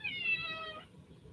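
A cat with brownish fur, its ears and legs turning brown, gives one drawn-out meow close by, ending before a short quiet stretch with no talk.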